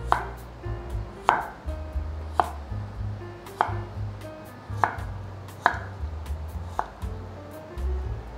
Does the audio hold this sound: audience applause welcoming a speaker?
no